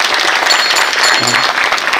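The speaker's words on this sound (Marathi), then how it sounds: "त्यांच्यासाठी अगदी जोरात टाळ्या वाजवा." Audience applause for a temple committee at a Marathi kirtan gathering, a dense continuous clapping from a crowd that holds steady at full volume for the whole two seconds with no voices over it.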